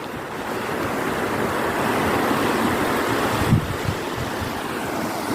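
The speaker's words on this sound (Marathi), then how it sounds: "पहा कसा छान खळाळता प्रवाह आहे नदीचा" River water rushes steadily over its bed beneath a bridge on the Ulhas River at Vangani, a broad continuous wash with wind buffeting the microphone and a brief bump near the end.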